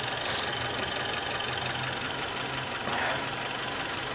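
A 1996 Toyota Corolla with the 4A-FE 1.6-litre engine idles after a cold start, a quiet, steady low hum with faint mechanical ticking and no voices.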